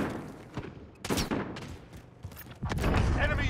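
Bursts of gunfire in Call of Duty: Modern Warfare, several volleys of shots with thumps between them, loud and close, over game ambience with faint voice chatter.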